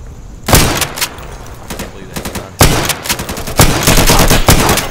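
Rapid gunfire bursts from the tactical shooter game Insurgency, with several loud volleys of automatic and shotgun fire separated by short pauses while a player talks over the action.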